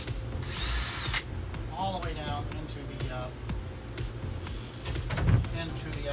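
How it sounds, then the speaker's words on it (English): Cordless battery drill driving screws into wood studs, whirring in short bursts up close, with a person talking over much of the sound. "I'm using 2 battery drills, which makes it much more convenient"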